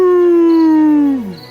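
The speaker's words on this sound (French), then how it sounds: "Il hurlait à la lune comme un vrai loup" A wolf howls at the moon in one long, loud, steady sustained note that slides downward and fades at the end, heard alone.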